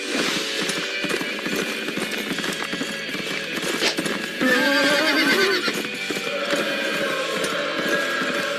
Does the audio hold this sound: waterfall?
no